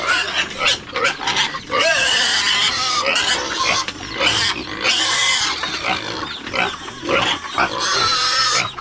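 Pigs kept in a simple pen for roasting grunt and squeal repeatedly at close range in loud overlapping bursts that continue throughout.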